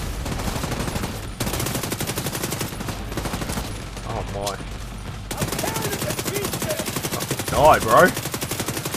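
Automatic rifle fire in The Division 2 rattles in long rapid bursts throughout, loud and close, with brief pauses between strings of shots. Someone speaks briefly over the shooting.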